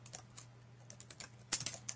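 Quick keystrokes on a computer keyboard while an email link address is entered, scattered soft taps over a steady low hum, ending in a louder burst of clicks.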